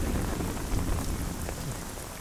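Steady rain patters densely on a surface, a continuous hiss of drops without pause, fairly loud and close.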